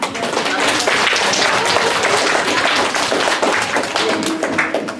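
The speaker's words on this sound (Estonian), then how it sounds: "Teeme neile suure aplausi, palun." Audience applause after a school science-theatre show, dense steady clapping filling the room for the whole stretch, loud and close with no voices on top.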